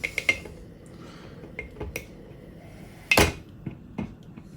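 Metal tongs handling a Shaq egg maker: a few sharp clicks and taps, with one louder clank near the end, close and fairly quiet, no voices.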